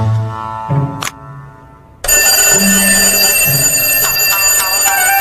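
A loud electronic alarm clock rings continuously after a brief melodic chime and a pause, its shrill tone dominating the rest of the clip.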